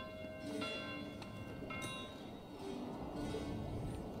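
Church bells ring in the medieval village of the strategy game Manor Lords: a few resonant, sustained tolls that fade out, set over a steady ambient bed of wind and distant village noise.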